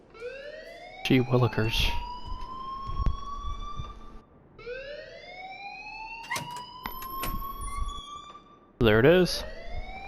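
Rising and falling electronic siren-style school alarm in the video game Life Is Strange, wailing in repeated sweeps with brief gaps, loud and close, while someone talks over parts of it.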